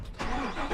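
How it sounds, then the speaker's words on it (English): A 2023 Chevrolet Silverado 2500HD pickup engine cranks and catches, a short churn rising into a steady mid-pitched rumble as it starts up close by. "Let me fire up the truck and make sure that they both work."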